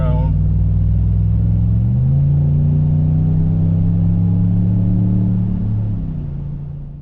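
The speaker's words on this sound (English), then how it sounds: "Straight pipe. I mean, you can definitely hear it more, but it's not" A 2019 Ram 1500 with its muffler deleted and straight-piped exhaust drones loudly up close, a deep steady rumble that steps up in pitch around two seconds in, holds, then drops back and fades at the end.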